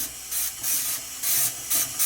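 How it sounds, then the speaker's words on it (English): Dawn dish soap sprayed from a bottle onto the grates and top of a Weber Q 2400 electric grill, about four sharp, close hissing bursts with short pauses between them. "I'm going to just give it a nice spray of the Dawn and let it really soak in."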